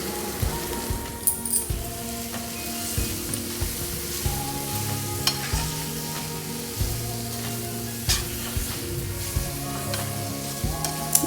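Onion and egg gravy masala frying and simmering in a pan, a dense steady sizzle with bubbling and occasional spattering pops, while faint music plays softly in the background.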